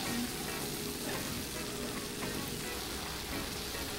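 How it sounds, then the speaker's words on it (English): Mushrooms sautéing with onions and garlic in a pan give a steady, dense sizzle of frying that holds evenly throughout, close and moderately loud, with no voices over it. "now I'm going to saute them with the onions and garlic"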